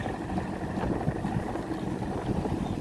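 A pontoon ferry boat approaches a pier in Phra Nakhon Si Ayutthaya, a steady low rumble of engine and water mixed with strong gusting wind noise, continuous and fairly loud.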